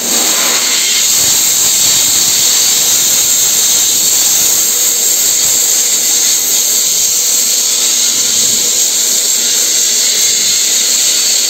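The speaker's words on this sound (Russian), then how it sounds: "Все, воздух открываю и потом включаю песок." A homemade sandblasting cabinet roars with a steady, loud hiss of compressed air and sand streaming continuously at close range, unbroken throughout.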